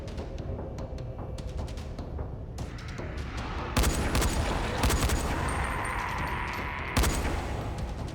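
Dense gunfire in the zombie game Dying Light, rapid repeated shots layered over constant loud combat noise, with a few heavier bursts standing out partway through.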